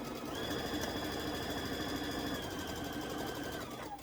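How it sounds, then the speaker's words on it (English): A sewing machine runs a quarter-inch seam on quilt strips, a steady even motor hum with rapid needle rattle, close and uninterrupted, slowing at the very end. "Stitch a 1/4 of an inch seam."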